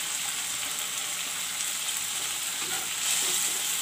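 Masala for Ruhu fish curry frying in a pan, a steady bright sizzling hiss throughout with faint stirring scrapes, swelling slightly near the end.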